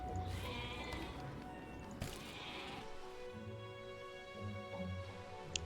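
Sheep bleat in the video game Ymir: a few quiet, drawn-out wavering calls, the last ones low and repeated, over a soft ambient game backdrop.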